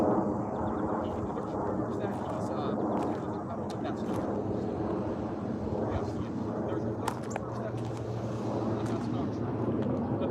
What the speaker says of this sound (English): That might be either F-16s or F-18s. F-18's doing a patrol flyover.